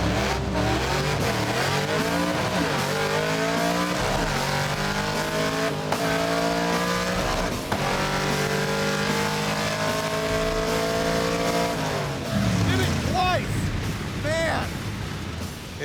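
A project car with a worn clutch and a suspected failing ignition coil races down a drag strip. Its engine roars up through repeated rising revs and gear changes, then ends in a tire squeal.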